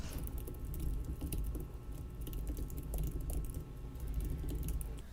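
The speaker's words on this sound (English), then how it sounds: "I'll go ahead and type it out" Steady typing on a computer keyboard, a rapid close patter of key clicks running throughout with slight pauses and no voice.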